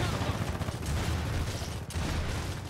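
Loud, dense gunfire clatters in a Gears of War 4 co-op team deathmatch, a continuous wash of shooting with a sharp dip near the middle, as shotgun blasts are traded at close range.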